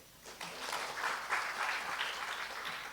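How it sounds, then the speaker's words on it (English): Applause from a lecture audience for a guest speaker at an HIV co-infection clinical talk, steady clapping at moderate volume filling the room for a few seconds. "Give applause to him."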